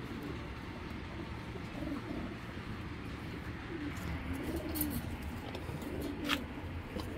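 Pigeons coo softly and repeatedly against a low, continuous background rumble, with a few faint higher chirps; no one speaks.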